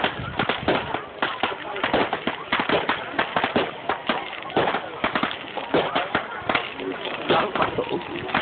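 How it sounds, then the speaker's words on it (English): A fireworks display at Kendal Castle gives a steady run of sharp cracks and pops of varied loudness, mixed with nearby chatter from onlookers. "Bloody love fireworks, me."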